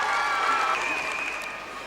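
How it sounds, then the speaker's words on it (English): A school audience at a five-a-side football event cheers and applauds for Wangel's Cop School and Wheatley Park School, a dense steady wash of crowd noise that fades slightly toward the end. "And there they all are cheering."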